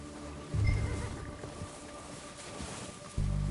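A horse in the Red Dead Redemption 2 video game whinnies in a short, close burst, then snorts and shuffles quietly before another low, breathy burst near the end.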